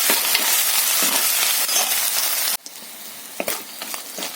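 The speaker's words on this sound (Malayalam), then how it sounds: "നമുക്കിനി ഇതിനകത്തേക്ക് ഇഞ്ചി വെളുത്തുള്ളി കുരുമുളക് പേസ്റ്റ് ചേർത്ത് കൊടുക്കാം ഇത് പച്ചമണം മാറുന്നിടം വരെ ഇളക്കി കൊടുക്കാം" A ginger, garlic and black pepper paste fries loudly in a pan for a kudampuli prawn curry. The hiss drops off sharply halfway through, leaving a quieter sizzle with a few stirring clinks.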